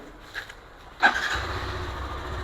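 A Hero Extreme 125cc motorcycle engine starts close by with one sharp catch and then settles into a steady low idle rumble. No one speaks.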